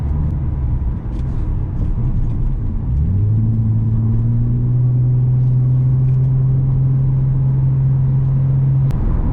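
Inside a Nissan 350Z (Fairlady Z) on a narrow road, a steady, loud engine drone rumbles throughout; its pitch rises around the third second, then holds an even tone, with no talking.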